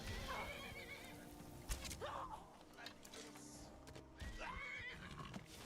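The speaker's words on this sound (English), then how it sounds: "who is attacking this horse?" A horse in the Skyrim video game neighs twice, each a rising whinny over a busy in-game background of thumps and rustles, with faint talk underneath.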